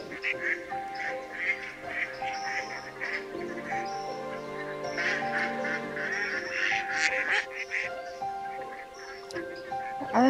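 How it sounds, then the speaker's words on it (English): Baby ducklings quack continuously through the scene, a busy chorus of small calls with a steady outdoor hum beneath and a faint voice now and then. "they are baby ducklings"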